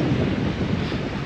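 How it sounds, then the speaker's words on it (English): Strong wind buffets the microphone on a sandy beach in Cozumel, a steady, loud broadband roar with surf mixed in, continuous throughout with no voices. "it's so windy"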